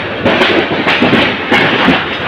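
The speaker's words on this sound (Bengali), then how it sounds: "বিমানবন্দর রেল স্টেশনের এক নম্বর প্ল্যাটফর্মে প্রবেশ করেছে ট্রেনটি" A train entering platform one of Airport railway station rumbles steadily with rhythmic rail clatter and periodic knocks, loud and close, with no voices.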